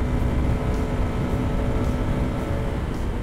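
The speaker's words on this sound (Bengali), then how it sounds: "৬ নাম্বার গিয়ারে আছে বাইক।" A Suzuki Gixxer SF 250 motorcycle carrying a pillion rider runs flat out in sixth gear, giving a loud, steady roar of engine and rushing wind that holds unbroken throughout, with no voices.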